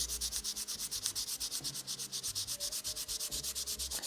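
Rapid, rhythmic back-and-forth scratching of sandpaper on wood, steady strokes about seven per second, close and continuous with no speech.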